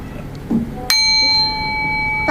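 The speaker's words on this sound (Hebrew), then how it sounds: "פעמון." A single bell struck once, a bright ringing tone that sustains and slowly fades, heard alone after a few faint soft sounds.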